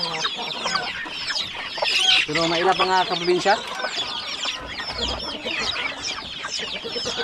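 Chickens cluck near and clear alongside their chicks, with a crowing-like call rising briefly in the middle; a person speaks over the birds.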